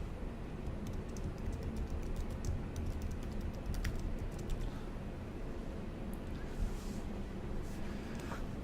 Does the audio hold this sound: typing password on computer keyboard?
yes